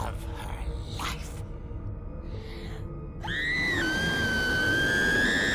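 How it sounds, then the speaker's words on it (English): A woman's long, high, piercing scream from the video game What Remains of Edith Finch, rising after quieter game sounds and holding loud to the end. "She finally screamed!"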